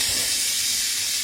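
Garlic added to a hot pan of seared steak for pepper steak, heard as a loud, steady broadband sizzle and hiss filling the whole moment, close up, with no talking.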